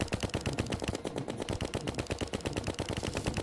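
Rapid, evenly spaced shots from the Minishark gun in Terraria rattle out in a continuous stream, a close, crisp automatic burst that barely pauses across the whole stretch.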